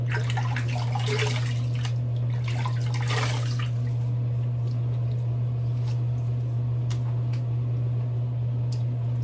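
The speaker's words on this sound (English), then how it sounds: "Alright, let's rinse the face." Water splashes as a face is rinsed after shaving, with a few close wet splashes in the first seconds, then quieter drips over a constant low electrical hum.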